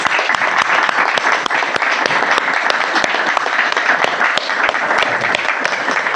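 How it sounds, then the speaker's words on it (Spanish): Audience applause at a novel presentation, loud and close, with sharp individual claps forming a dense, steady patter that runs the whole clip without talk. "voy a pedir un aplauso para él"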